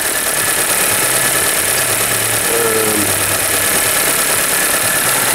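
A VW Polo engine idles steadily after a fresh ignition coil and new spark plugs cure its misfire, a loud, even mechanical hum with no talk.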